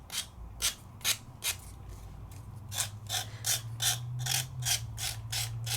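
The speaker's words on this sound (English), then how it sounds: "I can get in there with here and just sand it down." Wood is sanded by hand with sandpaper in short, repeated rasping strokes, close and fairly quiet, in an uneven rhythm of about a dozen passes over a low background hum, with no talk.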